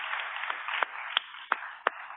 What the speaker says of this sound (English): could we give a round of applause to the staff